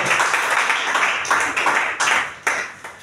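A church congregation claps in unison during worship, a steady run of hand claps at moderate distance with a few sharper accents near the end, no talking over it.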